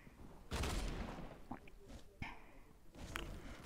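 Gunshots from a solos battle-royale video game: a loud burst of broadband firing, then scattered single shots and another burst near the end.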